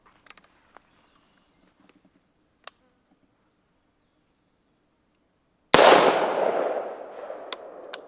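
A rifle shot fired downrange at a concrete block cracks out as a single loud, sharp blast after a long quiet stretch with a few faint ticks, its rumbling echo decaying over the next couple of seconds.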